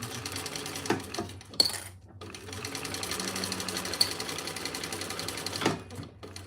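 A sewing machine stitches a Small Ciana bag in a steady, close mechanical whir that runs for several seconds, with brief starts and stops and small clicks at either end.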